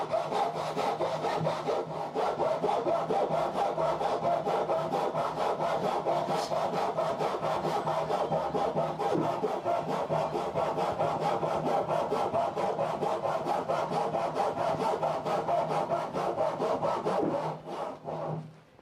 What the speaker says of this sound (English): this saw is not very sharp